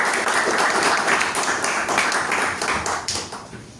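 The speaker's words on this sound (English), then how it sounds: "Please give a round of applause." Audience applause at a Toastmasters club meeting, a burst of many hands clapping from a room full of people, fairly loud at first and tapering off toward the end.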